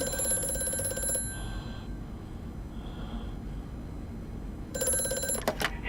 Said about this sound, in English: Phone call again